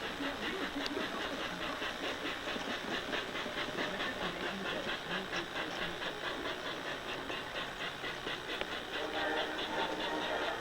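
A model train runs continuously around its track with a hissing, whirring drone and faint rhythmic clicking, steady throughout without pause.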